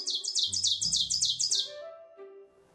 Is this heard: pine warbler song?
yes